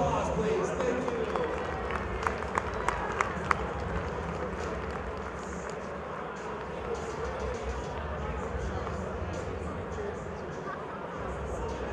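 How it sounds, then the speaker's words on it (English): An audience at a martial arts fight event applauds the fighters with a steady wash of clapping and a few sharper claps, while an announcer speaks over it. "These ladies, a round of applause, please."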